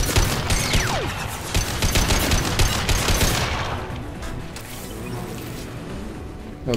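Rapid gunfire crackles through a firefight in the video game Mass Effect 2, dense overlapping bursts that stay loud for a few seconds, then thin out into scattered distant shots and a lingering rumble.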